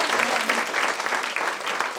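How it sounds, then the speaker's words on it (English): Audience applauding yoga performers after a demonstration of asanas, a dense, steady wash of many hands clapping at close range that holds throughout with no break. "Can we give them a big round of applause?"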